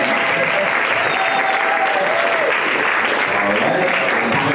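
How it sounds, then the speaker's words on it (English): A crowd at a public show in Hawaii gives a loud, continuous round of applause for a team on stage, a thick wall of clapping with a few voices cutting through. "Please give a big round of applause for this team up here"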